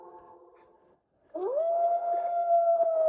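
Wolf howl in a Warrior Cats wolf-pack video game, a low wavering tone that cuts off, then a long, loud, clear rising howl that holds steady to the end.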